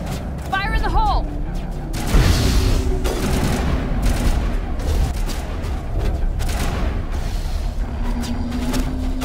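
A grenade detonates in the Mass Effect video game, a deep booming blast followed by sustained gunfire and combat noise, with character voices talking over the battle.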